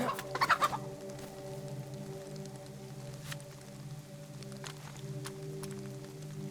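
Close by in a game world, a chicken gives a quick burst of clucks at the start, and a few faint calls follow over a steady, droning ambient bed.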